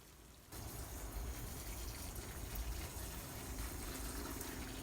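Plants being given a thorough soaking with water, a steady pouring splash that starts abruptly and keeps up evenly at close range, fairly quiet, with no talking.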